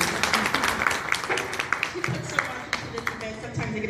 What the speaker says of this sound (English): Dr. Sherri, let's come and give her a round of applause